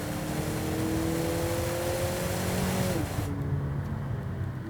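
A 2019 Acura ILX A-Spec engine revs up sharply for a rev-matched downshift, a loud close whir whose pitch holds high before dropping off quickly, then settling back to a steady drone.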